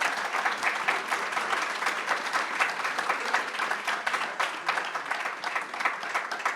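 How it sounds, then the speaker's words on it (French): An audience at a business forum panel on corporate social responsibility claps warmly in a steady, even round of applause that holds throughout at moderate volume. "Je crois qu'on peut chaleureusement vous applaudir."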